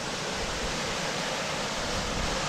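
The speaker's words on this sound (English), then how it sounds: "Another view here, waterfall coming out of the mountain." A waterfall pours out of the mountainside on Mt. Hood along the Timberline Trail, giving a steady, dense broadband rush of falling water that stays even and unbroken throughout, with no voices.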